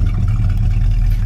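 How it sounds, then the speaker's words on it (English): Dual exhaust of a 1967 Plymouth Belvedere idling close by, a loud, steady low rumble that holds without pause. "Dual exhaust sounds nice."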